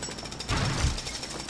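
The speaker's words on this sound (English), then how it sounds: "now I can actually take out the drill" Jackhammer drill in the Lego City Undercover video game rattling steadily and loudly for the whole moment, with a heavier low thumping burst midway, no talking over it.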